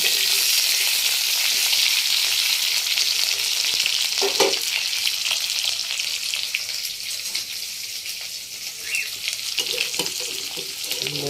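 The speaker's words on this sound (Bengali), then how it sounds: "আলু বড়ি ভাজা হচ্ছে মাছের জন্য" Potatoes and lentil dumplings frying in hot oil, a loud continuous crackling sizzle close up, with a couple of brief stirring knocks and no talk.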